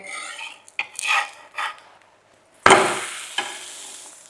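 A buttered sandwich being flipped and toasted on a pan, a few short scraping strokes of a spatula, then a sudden louder sizzle as it lands, with quieter rasping after.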